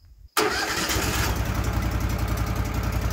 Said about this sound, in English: Now we'll get the engine started.